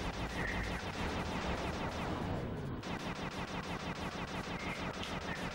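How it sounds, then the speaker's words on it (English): Rapid, steady gunfire fills the Sly 2 game, with bullets bouncing around. The shots repeat in a dense, continuous rhythm and carry on almost unbroken throughout. "so now you have bouncing bullets"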